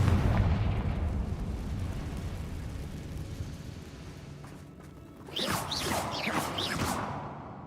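Confringo fire-blast spells in Hogwarts Legacy: a booming explosion fading into rumble, then after a pause a fresh burst of blasts with crackling, whooshing debris, loud and without speech.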